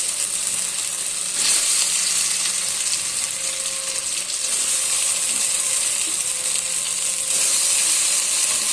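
Chalta pieces sizzle and fry steadily in hot mustard oil with panch phoron, a continuous bright crackle close up with faint stirring and no talk.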